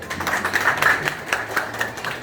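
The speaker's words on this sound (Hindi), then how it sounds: "जी एक बार जोरदार ताली बजाइए।" An audience at a commemorative jayanti gathering gives a round of hearty applause. The clapping sounds like a dense, uneven patter of hand claps that rises and falls for a couple of seconds, with no voices over it.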